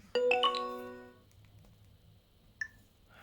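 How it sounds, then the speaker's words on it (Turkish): A bright chiming notification tone from a Huawei MatePad 10.4 tablet, the "Rise" sound, plays a quick rising series of notes that ring out and fade, followed by a faint short ping. "varsayılan bildirim sesi olarak Rise ayarlı"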